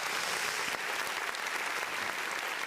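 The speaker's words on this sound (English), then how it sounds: "Let me get some claps on that" Steady applause from a live audience at a podcast interview, a dense wash of clapping that keeps going through the whole moment.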